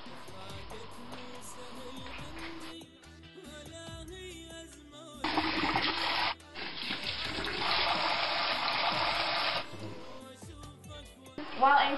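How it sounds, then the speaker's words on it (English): Basmati rice washed in water in a kitchen, with splashing and rushing water in bursts, loud surges broken by quieter pauses, and a voice speaking at times. "So you're going to go wash the rice."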